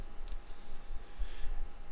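Two crisp mouse clicks close together near the start, made while drawing a star in VCarve Pro 8.0 software, followed by quiet room tone.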